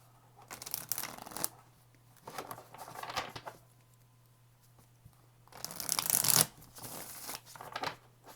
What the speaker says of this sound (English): Two more shuffles for Scorpio, please.